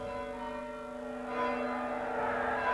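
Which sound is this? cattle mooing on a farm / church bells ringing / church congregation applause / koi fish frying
church bells ringing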